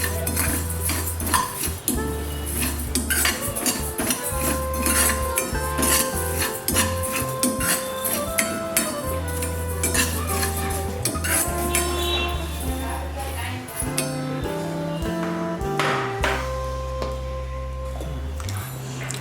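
A metal spoon clinks and scrapes against a pan while spices are lightly dry-roasted for instant lemon pickle, with repeated stirring taps beneath a steady musical background.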